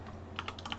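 Typing on a computer keyboard: a short run of quick, light key clicks, about five taps in an uneven rhythm, close and fairly quiet over a low steady hum.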